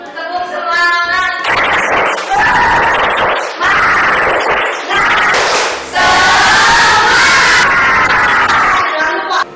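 An Indonesian school class claps and chants a spirit clap together in short loud bursts, a lively rhythmic pattern with shouting voices between the claps, filling a classroom.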